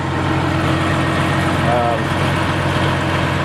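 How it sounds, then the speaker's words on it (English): Military wrecker truck engine idling steadily, a continuous low rumble that stays even and fairly loud throughout, with faint voices in the background. "Got the military wrecker running just for some exercise. Haven't run that in a while. Just gonna let it idle for a bit."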